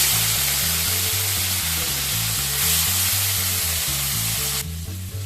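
Prawns fry in hot mustard oil with a loud, steady sizzle and crackle, heard close and continuous with no voices over it.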